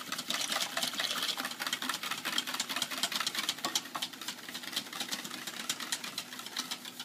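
Dominican flan batter being mixed with evaporated milk, giving a steady, rapid whirring clatter of mixing against a bowl that runs unbroken and fairly close, with no talking.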